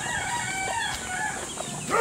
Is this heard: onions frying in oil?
no